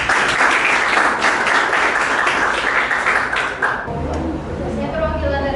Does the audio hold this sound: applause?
yes